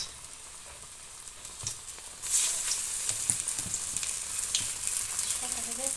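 Bottle gourd peel fritters fry in hot oil in a wok with a close, steady crackling sizzle that swells louder partway through and keeps hissing continuously.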